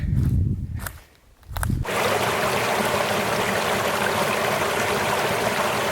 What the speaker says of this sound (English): Beautiful little stretch along this brook.